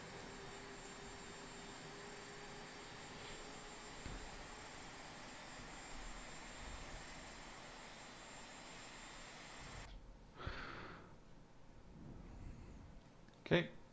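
Boeing 737 Classic jet engine in the IXEG flight simulator, a steady broadband roar with a faint high whine that runs evenly, then drops away abruptly, leaving a few scattered clicks and soft bumps.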